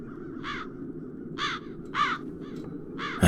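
Cursed crows caw near a castle in the adventure game The Dark Eye: Chains of Satinav, five harsh separate calls spaced about half a second apart over a steady low ambient bed.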